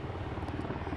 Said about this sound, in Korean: 양구 헬기 부대 창설에 따른 주민 피해 정도를 파악하기 위해 진행되는 헬기 소음 측정입니다